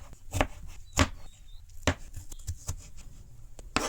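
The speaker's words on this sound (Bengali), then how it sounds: "টমেটোটা ওরকম করে ছোটো ছোটো করে কাটিম।" A knife chops tomatoes into small pieces on a board for a spicy peanut mix, giving sharp, irregular close-up thuds with short pauses between them and no talk.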